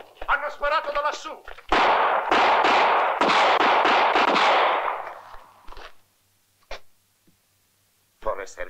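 Gunfire in an Italian western film shootout: a voice calls out briefly, then a dense, loud burst of rapid shots rolls for several seconds before fading into a few isolated cracks.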